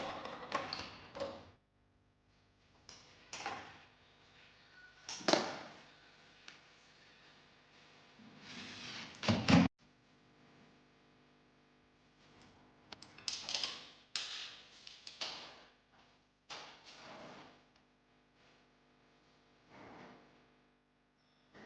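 Handle hardware being fastened onto an interior door from the Nostra series, Lineia model, with Punto handles: scattered clicks, taps and short metallic rattles come in irregular bursts separated by quiet gaps, close and fairly soft, without voices.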